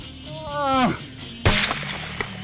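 A single loud rifle shot cracks out during a bull moose hunt in the Yukon, sharp and close, following a stretch of talk and a falling drawn-out call, with a brief echo tailing off.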